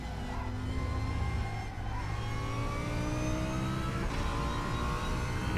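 A Super GT race car engine in the RaceRoom racing game revs loudly and continuously, rising and falling through gears with brief dips at shifts, alone with no talk.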